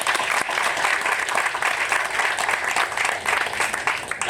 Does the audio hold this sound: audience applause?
yes